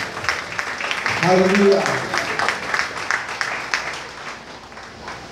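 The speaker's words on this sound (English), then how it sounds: "Come on, give the Lord a good clap." A church congregation claps for the Lord during a worship service, a dense wash of applause swelling and easing under a preacher's spoken exclamation.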